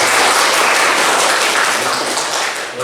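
A classroom of vocational high school accounting students breaks into applause, a dense, steady wash of many hands clapping at once that stays loud throughout and tapers slightly toward the end.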